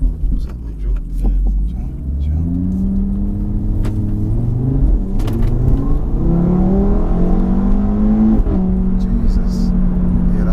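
A Stage 1 Audi RS3 with about 424 bhp rumbles and revs as it accelerates, engine pitch rising and falling in sweeps from inside the car, with people talking over it throughout.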